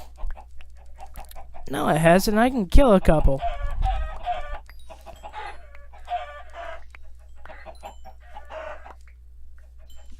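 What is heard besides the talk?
chickens clucking in video game Minecraft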